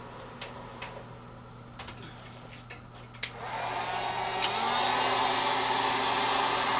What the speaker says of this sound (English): take my heat gun and just reheat it so it'll melt